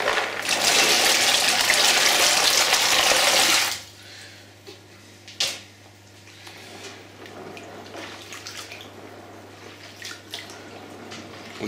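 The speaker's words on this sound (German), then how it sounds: "Und waschen die Beeren vorsichtig," Rose hips being washed by hand in a bowl of lukewarm water: steady loud splashing and running water for about four seconds, then quieter sloshing, dripping and a few brief louder swishes.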